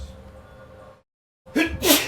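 A single loud sneeze bursts out after a brief silence, preceded by quieter background murmur.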